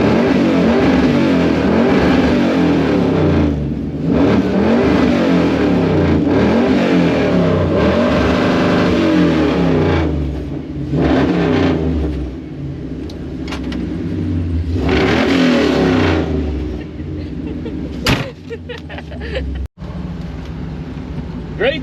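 A 1957 Chevy being turned into a family truckster revs hard in repeated loud, rising bursts with short dips between them, then settles toward an idle near the end.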